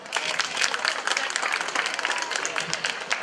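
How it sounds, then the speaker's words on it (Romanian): Festival audience at an interethnic week event applauds steadily, dense clapping filling the hall with a few voices mixed in. "Aplauze!"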